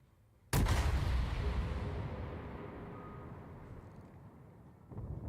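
A single booming blast of warship gunfire in a naval battle video game hits suddenly and rolls off into a long, fading rumble, with another shot beginning near the end.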